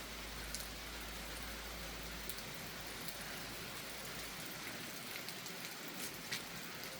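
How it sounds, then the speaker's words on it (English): Rain falling on a building site in Ghana, with water pouring from a roof spout: a soft, constant patter and hiss at low level, with no talk. "oh, look at the rain. The water is falling from the"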